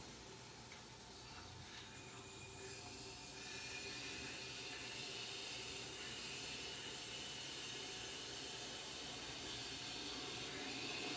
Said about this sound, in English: I'm gonna start by opening this cutoff valve and letting the steam get into the radiator.